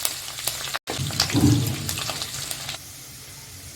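Chopped garlic sizzling in hot oil with cumin for Patiala chicken, a steady watery hiss with a brief dropout near the start and a louder burst midway before the sizzle thins out.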